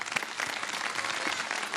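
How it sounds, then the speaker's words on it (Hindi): Studio audience applauding on a Ramadan TV show's kids segment, a steady wash of many hands clapping at moderate volume throughout, with no talk over it. "तालियां"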